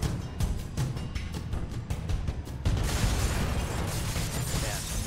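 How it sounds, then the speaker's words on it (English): A loud in-game explosion in Halo: Combat Evolved during a firefight, a run of sharp bursts and pops followed by a dense, sustained roar of blast noise and debris with no talk. "I went to pull the trigger and then it's an explosion"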